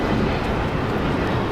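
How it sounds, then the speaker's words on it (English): A United Airlines Boeing 737 MAX 9 jet gives off a loud, broad, steady roar of engine noise, close and unbroken for the whole moment, with no talking. "It's United Airlines flight 2377 headed to Houston on a 737 MAX 9"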